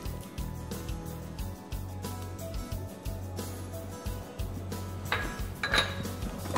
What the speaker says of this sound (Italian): Quindi mettiamo il burro nella planetaria